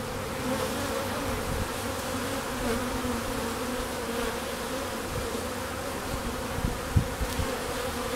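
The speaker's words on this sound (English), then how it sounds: "some bees that were quite curious about what was going on in that hole there" A dense, continuous hum of many honey bees buzzing close by around a hive, steady and droning, with a few sharp knocks near the end.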